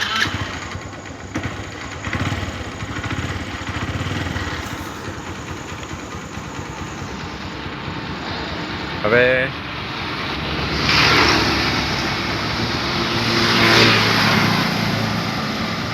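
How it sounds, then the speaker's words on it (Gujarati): A car's engine is cranked with the self-starter, giving a brief rising whine, then the motor rumbles and swells as the car pulls away, with someone talking over the engine noise. "ગાડીનો સેલ મારીએ"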